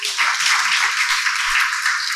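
An audience at a lecture bursts into applause, many hands clapping densely and evenly for about two seconds, loud and close, with no talk over it.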